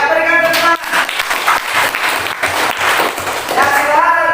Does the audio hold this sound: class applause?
yes